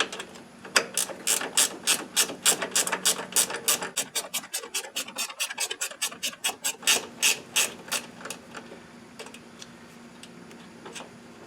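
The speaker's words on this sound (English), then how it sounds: "How about a ratchet wrench?" A ratchet wrench turns a nut on an Ariens Ikon zero-turn mower, making a long run of rapid, close clicking that slows and spaces out before fading to quiet near the end.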